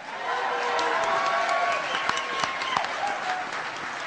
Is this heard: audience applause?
yes